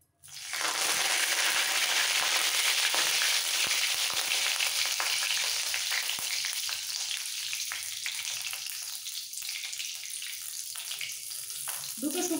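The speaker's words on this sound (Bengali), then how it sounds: "বাদাম ভাজা হয়ে গেলে এই তেলের মধ্যে একটা কারি পাতার ডাল" A sprig of curry leaves hits hot oil left from frying peanuts, erupting into a loud, dense spitting sizzle that stays strong and slowly eases over about twelve seconds, with small crackles throughout.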